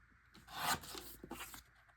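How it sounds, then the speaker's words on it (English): Paper photo being trimmed a little at a time for a two-page scrapbook layout, giving a short, quiet rasping cut of about a second with a few soft scrapes after, no talking. "I am going to trim just a little bit at a time"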